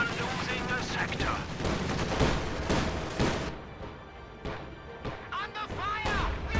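Gunfire from a WWII strategy video game battle crackles in dense bursts of rifle and machine-gun shots with heavier booms, loud and rapid at first and then thinning to scattered sharp shots, mixed with game voices calling out.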